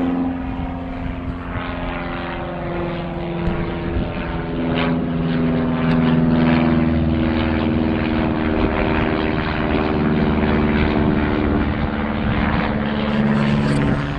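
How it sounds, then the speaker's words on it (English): A propeller airplane drones steadily overhead, its engine pitch slowly shifting as it passes low and loud, with no talking. "Oh, look at that airplane."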